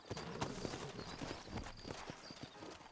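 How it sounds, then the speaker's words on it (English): Horses' hooves clip-clop at a steady walking pace in the video game Red Dead Redemption, a faint, continuous run of hoof strikes on a dusty town street with no clear talk. "You ain't gonna find sturdier horses than these in all of New Ulster"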